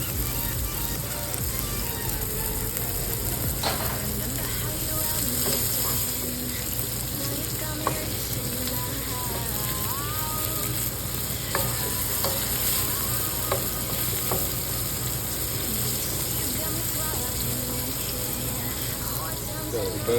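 Garlic and fennel seeds frying in oil for crispy brinjal vadai give a constant, dense sizzle with occasional spoon clicks and stirring scrapes, close and even throughout.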